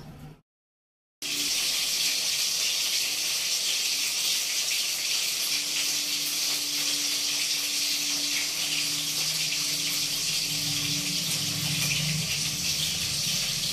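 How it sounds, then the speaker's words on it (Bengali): After a brief silence, a loud, continuous sizzling hiss of fish frying in hot oil fills the rest of the clip. "রান্না হচ্ছে মাছের ঝোল, মানে মাছ ভাজা হচ্ছে"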